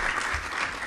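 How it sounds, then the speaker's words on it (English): Audience applause after a speaker's call for a round of clapping at a talk on annuities in the Ugandan retirement benefits market, a short steady burst of many hands clapping. "A round of applause to Mrs."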